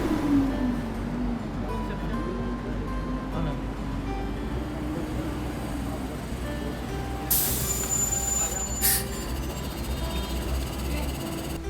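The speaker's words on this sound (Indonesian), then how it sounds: "Bis yang kami tumpangi pun tiba" A city bus pulls in at a stop in Daejeon on a winter morning, its engine a steady low rumble beneath street traffic noise, with a brief sharp hiss of air brakes near the end.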